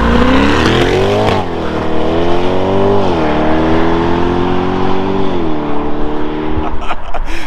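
2022 Chevrolet Corvette C8 Stingray Z51 2LT accelerating hard, heard from outside: a loud, rising engine roar climbing through several gear shifts over several seconds before fading as it pulls away.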